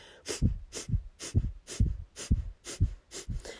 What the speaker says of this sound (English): So breath of fire, remember it sounds like this.